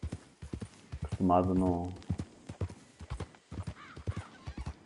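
Horse galloping in Red Dead Redemption, rhythmic clip-clop of hooves close by with a loud whinny partway through, while someone talks over the hoofbeats.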